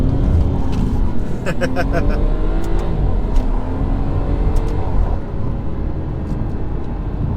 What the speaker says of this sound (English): Just a little bit of wheel spin, you know.